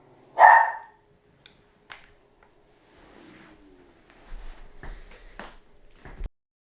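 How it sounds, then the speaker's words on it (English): Two dogs fight in a kitchen, with one sharp bark up front, then scattered yelps, scuffles and growling scrapes at moderate distance, ending in a brief clatter. "my two dogs will eventually be joining me, but right now they're having a fight in the kitchen"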